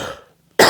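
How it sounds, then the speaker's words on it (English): One short cough rings out sharply after a brief moment of near silence, loud and close. "just like I was just coughing"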